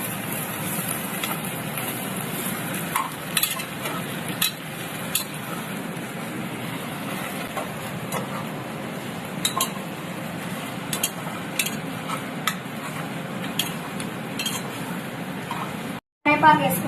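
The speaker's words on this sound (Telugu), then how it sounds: "మిక్స్ చేసుకుందాం ఫ్రెండ్స్" A spoon stirs ginger garlic paste in a pot while tomato rice is being cooked, giving soft repeated scraping and light clinks over a steady sizzling hiss.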